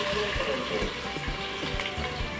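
Grated cucumber mixture tipped into melted Dalda in a pot, a continuous watery sizzle and splash, close and fairly loud, with a voice talking over it.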